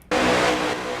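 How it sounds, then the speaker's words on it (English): Race car engines in a Daytona 500 racing video game roar in suddenly and loudly, a dense sustained engine blare that holds steady for a moment with no talk. "These cars are loud, bruh."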